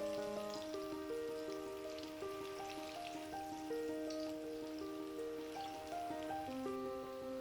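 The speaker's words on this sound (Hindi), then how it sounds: "और इन्हें हम इसी तरीके से फ्राई होने देंगे।" Malai kofta balls sizzling steadily in hot oil, a dense crackling hiss throughout, close and continuous, with soft background music tones running underneath and no talking.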